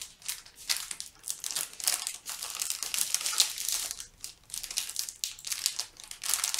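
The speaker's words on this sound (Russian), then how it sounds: "Давай, открывай, разрывай пакетик." A crinkly plastic packet is torn and crumpled open in a steady run of sharp, close rustles and crackles lasting several seconds, with no voices over it.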